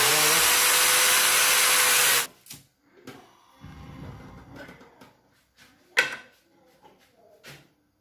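A power tool cuts through a pipe during a build of a mini grass cutter from a 775 motor, a loud steady whine for about two seconds that stops abruptly, followed by quieter clunks and handling knocks.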